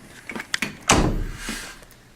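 A door opens indoors at a house: a few light clicks of the handle, then a loud swinging whoosh and rattle that fades over about a second.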